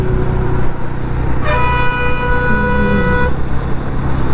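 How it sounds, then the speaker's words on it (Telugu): A vehicle horn blares loud and close for about two seconds over steady road and engine noise during a motorcycle ride on the Bangalore–Tirupati highway. "ఊరికైనా హార్న్ కొడుతుంటారు పనికి వాళ్ళు"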